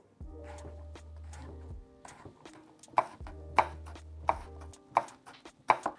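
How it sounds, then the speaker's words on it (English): A knife cuts vegetables into half moons on a cutting board, giving a series of sharp, evenly spaced chops close up, with low background hum between them. "And I'm just going to cut these in half moons."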